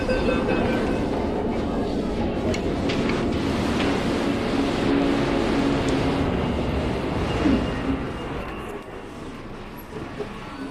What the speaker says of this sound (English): After a half-hour subway ride